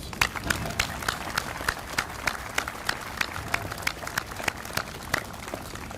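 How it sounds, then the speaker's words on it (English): An audience at a US Army recruiting brigade change of command ceremony gives a round of applause, scattered sharp claps standing out over a softer crowd wash in a large space. "Ladies and gentlemen, let's give them all a round of applause."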